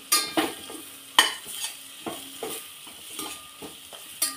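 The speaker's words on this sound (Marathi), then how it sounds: "चांगल्या प्रकारे मसाले परतून घ्यायचे मिडियम गॅसवरती" Spices for Khandeshi khichdi sautéed in a pan over a medium gas flame, a spoon scraping and stirring in irregular strokes over a steady sizzle, close up and without speech.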